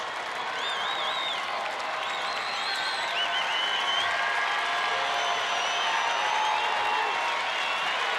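Fans at a Rangers home game against the Angels cheer and applaud for their team in a loud, sustained roar, with whistles and whoops rising above the clapping and the noise swelling toward the end.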